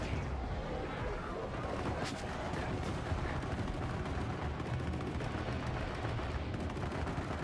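Shotgun blasts in the Borderlands 3 shooter, dense gunfire crackling steadily through a loud, busy combat mix with no clear pauses.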